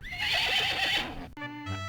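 A horse gives one loud, close whinny lasting about a second and ends with a short snort, followed by a brief tonal musical sting.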